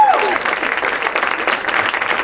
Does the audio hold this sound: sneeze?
no